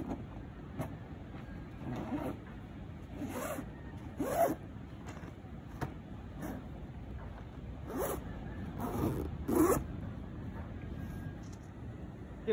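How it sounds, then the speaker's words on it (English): A zipper runs along a padded surfboard bag packed with a longboard in a series of short, close pulls with brief pauses between them, over a low steady background hum. "Now the last thing is to zip it up."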